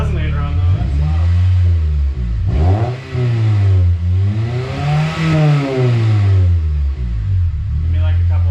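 Loud, close revving from a budget coupe's budget aftermarket exhaust without a resonator, rising and falling in several swells with a raspy, throaty roar.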